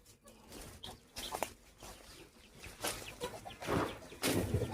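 A chicken clucks and squawks repeatedly in irregular bursts, growing louder toward the end, with rustling and faint household sounds around it.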